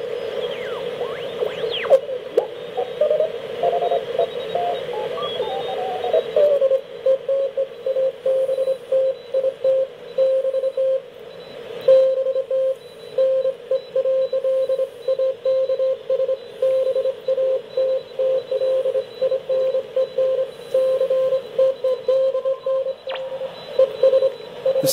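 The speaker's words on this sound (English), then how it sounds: "That's when the signal is tuned in, spot on frequency." Morse code signal received on a TenTec 1056 radio receiver, a steady tone keying on and off in rapid dots and dashes over a soft hiss, clear and continuous throughout.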